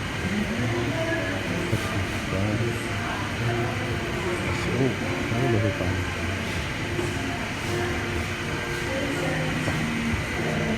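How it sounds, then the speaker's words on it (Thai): An electric sky train rumbles past with a steady, dense roar and rattle that stays loud from start to finish, with faint voices mixed into the noise. "นี่เป็นรถไฟฟ้าป่ะครับ รถไฟฟ้า"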